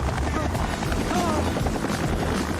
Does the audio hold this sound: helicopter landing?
yes